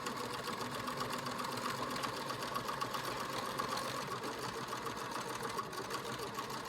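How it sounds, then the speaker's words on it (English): A sewing machine stitches a fabric project bag, its motor humming in a fast, even, continuous rattle of the needle at close range with no pauses. "And we're going to back stitch at this edge."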